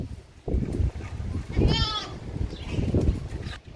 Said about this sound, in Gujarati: આ બકરી જો આ બાકરું ઘૂસવાઈ ગયું